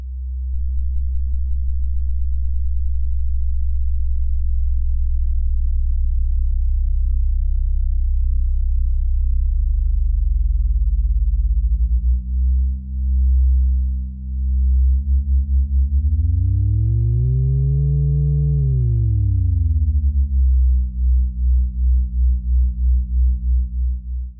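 Pure sine-wave tones from Eurorack modules hum alone as a loud, steady low drone. Higher tones slowly swell in and bend up then down in a smooth arc, and a faint pulsing flutter appears toward the end.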